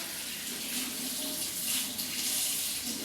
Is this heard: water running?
yes